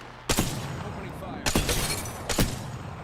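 Sniper rifle fire in Apex Legends, three sharp, loud cracks spaced about a second apart, each trailing off into a brief echo over low game ambience.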